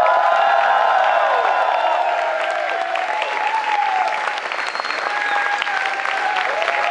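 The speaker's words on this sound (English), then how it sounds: "Make some noise for Mr. Ross Butcher." Crowd at a live concert in Belgrade applauds and cheers, with steady loud clapping, whoops and shouts filling the space throughout, while a voice calls out over the noise.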